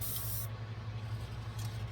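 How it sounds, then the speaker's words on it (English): Thinned Testors Dull Coat lacquer hisses from a sprayer onto a model car tail piece in two short bursts, a steady near, airy spray that stops briefly between them. "The first thing I'm going to do is spray the tail piece here."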